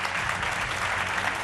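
A studio audience at a televised political debate claps in a steady, even roar, with a low musical hum running beneath it.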